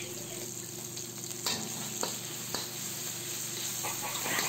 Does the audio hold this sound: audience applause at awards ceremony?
no